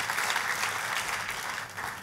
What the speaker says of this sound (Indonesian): Tepuk tangannya yang meriah buat Tuhan.